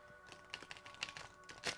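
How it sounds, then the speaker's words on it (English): A brand-new tarot deck with thin, flexible cardstock gets a quick dealer-style shuffle, giving a close, quiet patter of rapid card flicks and riffling taps in short uneven bursts, with no talk. "I'm going to do a fast shuffle here"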